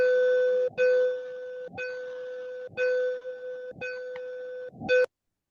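MSF long-wave time signal at 60 kHz heard on a receiver as a steady, Morse-like tone with a short break each second, the break lengths varying, over faint hiss, cutting off abruptly.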